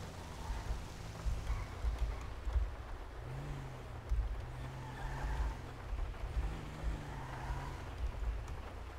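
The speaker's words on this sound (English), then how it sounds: "I guess get out in the rain" Steady rain falls in the Grand Theft Auto V roleplay game, a constant hiss over a low engine rumble with faint tonal hums, continuous throughout at moderate level.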